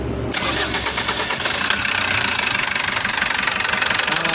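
A Foton CRDI diesel engine cranks and catches, then runs with a loud, steady, rhythmic engine knock that continues throughout.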